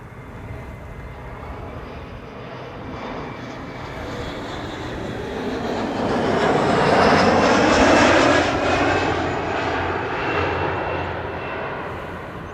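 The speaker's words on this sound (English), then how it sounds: "That's Turkish flight 1957, arriving from Istanbul, Turkey." A Turkish Airlines jet arriving from Istanbul lands at Amsterdam Schiphol, its engine roar a steady broad wash that swells loudest near the middle of the pass and then eases slightly, with no talk over it.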